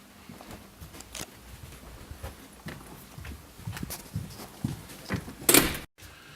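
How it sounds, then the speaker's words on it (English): Office doors fitted with access control locks opening at a secure company site, a run of scattered clicks, knocks and footstep-like thumps building to a sharp loud clack near the end. "Doors open, and we go to the next room."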